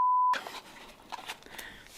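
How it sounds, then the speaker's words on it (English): A single steady censor beep tone covering a swear word, lasting a brief moment before cutting to quiet, faint background sounds. "you bleep out the cusses?"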